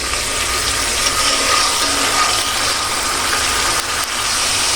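Ginger garlic paste frying in a pan gives a steady, close broadband sizzle that holds at an even level throughout, with no talking.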